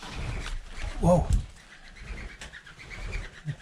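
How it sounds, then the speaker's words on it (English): A pigeon coos from inside a boarded-up building on a Scottish border crag, a soft burst of calls fairly close and then quieter, with wind and outdoor rustle around it. "The pigeon in there."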